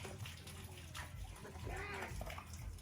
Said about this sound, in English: Okay, so I'm drawing the water.